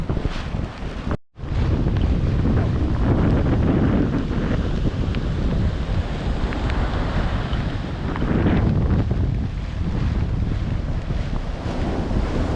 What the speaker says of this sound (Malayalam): നല്ല രീതിയിൽ കാറ്റടിക്കുന്നുണ്ട് കേട്ടോ